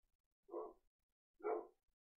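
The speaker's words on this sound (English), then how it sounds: "There goes my dog." A dog barks twice, two short separate woofs about a second apart, muffled and fairly distant against a quiet background.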